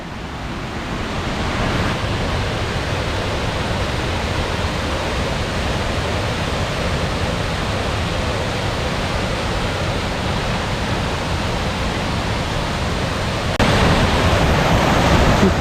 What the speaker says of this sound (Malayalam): വെള്ളച്ചാട്ടത്തിൻ്റെ ഏറ്റവും മനോഹരമായിട്ടുള്ള ദൃശ്യം